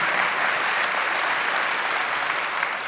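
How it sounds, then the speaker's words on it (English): Warm applause from an audience at an emerging artist's event fills the room, a dense and continuous patter of many hands that holds steady for about three seconds without voices. "If you guys can give them applause"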